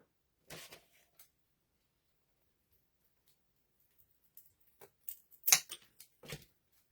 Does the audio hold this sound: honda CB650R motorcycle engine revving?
no